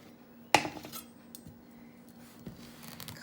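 A sharp knife chops down through the end of a butternut squash with one crisp, loud strike, followed by a faint knock of the blade against the cutting board a couple of seconds later in a quiet kitchen.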